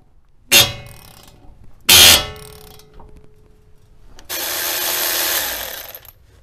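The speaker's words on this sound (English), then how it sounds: "Just some strategic prying and breaking off old rust." A pry bar works at a rusted suspension part on a BMW E24 635CSi, giving two sharp, loud metallic cracks followed by a longer grinding scrape, all close by with quiet gaps between.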